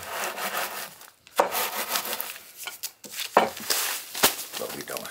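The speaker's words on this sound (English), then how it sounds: "as I crush this up into powder" Freeze-dried shrimp are crushed into powder with repeated scraping, grinding strokes in uneven bursts, close and moderately loud with short pauses between.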